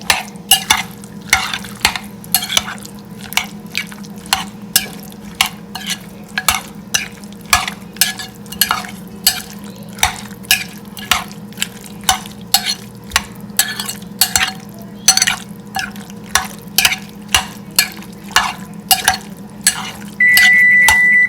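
A spoon scrapes and knocks steadily against a pan while tomato sambal for biryani is mixed, giving quick repeated clinks and stirs over a constant low hum, close and fairly loud with no talking.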